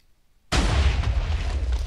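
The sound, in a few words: TNT explosion from an anti-aircraft cannon in the video game Minecraft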